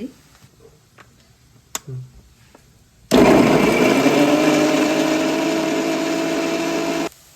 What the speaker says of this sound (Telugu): ఇందులో జీడిపప్పులు కూడా వేసుకోవాలి. ఇది మిక్సీ చేసుకోవాలి.